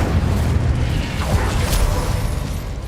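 Incendio fire spell cast in Hogwarts Legacy, a dull booming blast with a rushing burst over a steady low rumble of game sound, continuous and fairly loud for a few seconds.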